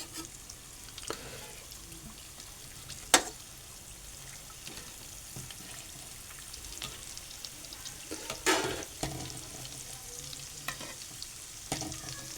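Vada pav fritters sizzling steadily in hot oil in a home kitchen, with occasional louder scraping clinks as a utensil stirs them through the pan.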